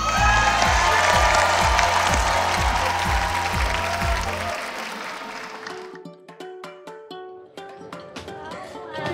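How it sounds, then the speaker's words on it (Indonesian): Loud music with a pounding beat cuts off, giving way to scattered applause and cheering from the audience at a children's singing competition blind audition, lighter and more broken than the music before it. "Tepuk tangan lagi dong"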